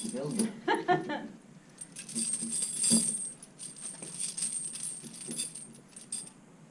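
Heavy metal tire chains being handled, draped and folded, giving a bright jangling and clinking close by, with a voice heard over it at times.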